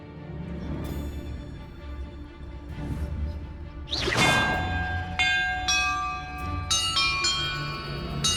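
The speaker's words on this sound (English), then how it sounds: "Perhaps the map contains clues about the order I'm supposed to ring the bells in." Bells ring out in the video game Hogwarts Legacy, several clear resonant strikes that start midway and overlap into a sustained chime, heard over a low background game ambience with no speech.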